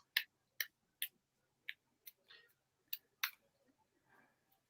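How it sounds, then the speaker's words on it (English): A deck of tarot cards being shuffled by hand gives a string of crisp, close snaps and riffles in uneven rhythm, with soft rustles in between, at low level. "So I'll just shuffle."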